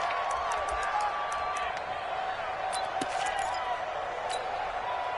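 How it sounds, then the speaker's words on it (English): A steady roar from the stadium crowd in the Dome fills a football game on a short goal-line down, with loud, continuous noise that stays behind faint commentary and a few sharp claps or whoops. "The crowd here in the Dome making things difficult."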